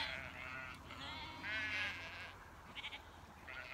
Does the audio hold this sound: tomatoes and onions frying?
no